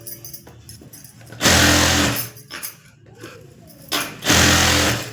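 Sewing machine stitching a folded sleeve on a chimmi garment, two loud close whirring runs separated by quieter handling and a short pause, with no talking.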